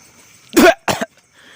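A person coughs twice in quick succession, sharp and close, against near silence.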